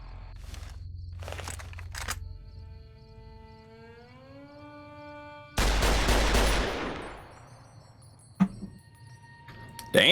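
A rifle shot in Fallout: New Vegas, one loud sharp blast with a ringing decay, set among quieter game sounds: a few earlier clicks and a rising mechanical tone, then a later click and thump.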